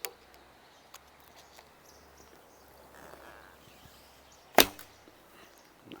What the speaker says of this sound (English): longer distance shots